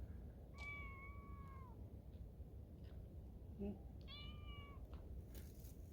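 A stray cat meows twice in Japan, drawn-out and fairly clear, with a soft rustle between the calls against a quiet background.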